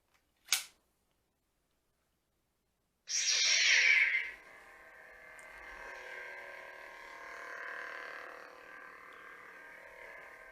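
A sharp click, then a bright electronic whoosh that settles into a sustained humming drone as an Ultrasabers Sentinel V4 lightsaber with an Obsidian V3 soundboard ignites and holds its hum.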